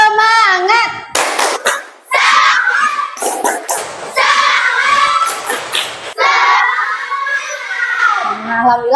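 Schoolchildren in a classroom do a rhythmic spirit clap, with quick bursts of hand claps mixed into loud chanting voices that rise and fall across the whole stretch.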